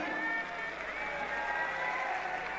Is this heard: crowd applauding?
yes